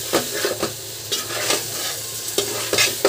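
A spatula stirs jute leaf mash with green mango in a pan, scraping in repeated short strokes over a constant low sizzle, close and clear with no talk.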